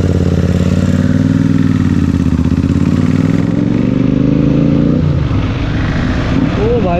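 A Royal Enfield GT650 motorcycle fitted with a new fat tyre rides a Sunday road toward Halflong. The engine drone is loud and steady, its tone shifts near the end, and voices mix in.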